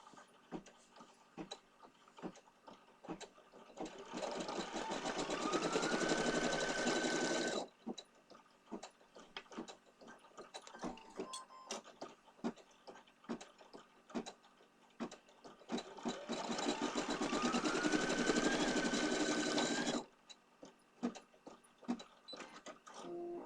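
An embroidery machine running a placement stitch: two sustained stretches of steady, rapid mechanical whirring and needle chatter, each several seconds long and close by, separated by quieter clicking and stepping sounds.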